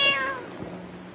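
A cat gives a single short meow, a faint, falling tone heard close by in a quiet setting, with no talking during the call.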